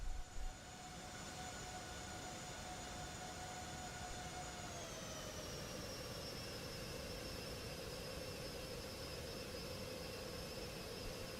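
Boeing 737 MAX 8 jet engines in Flight Simulator 2020, a steady high whine held alone over broad rushing noise, with the tone dropping slightly midway and then holding constant.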